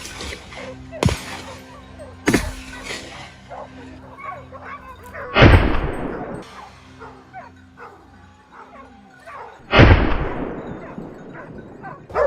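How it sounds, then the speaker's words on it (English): Rifle gunshots fired at a wild boar hiding in dense bushes: several sharp, loud cracks spaced a few seconds apart, with dogs barking and yipping between them. "rapid shots rang out, giving it no chance to react"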